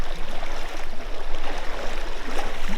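A powerful icy creek current pours and gurgles nearby in Hopland, California, a steady full-bodied water rush holding even throughout without speech.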